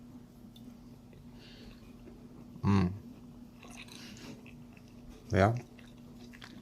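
Someone chews broiled beef with couscous close to the mic, with two loud, distinct bursts of mouth noise over a faint steady hum.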